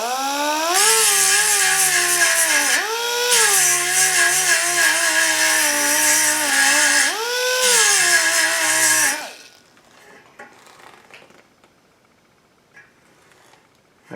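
A handheld grinder cleans up a Muggy Weld pot metal repair on a Mustang part, screaming loudly and close in three sustained bursts of high motor whine over about nine seconds before spinning down into near silence.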